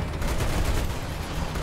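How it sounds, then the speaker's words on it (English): Twin machine guns fire in a continuous, loud, dense rattle in War Thunder, with no pauses across the short burst. "Hey, twin machine guns, bitch."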